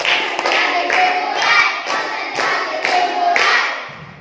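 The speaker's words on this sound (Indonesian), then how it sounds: "Tepuk konsentrasi." A fourth-grade class claps together in a rhythmic concentration pattern, with several crisp bursts of many hands in quick groups separated by brief pauses, close and fairly loud.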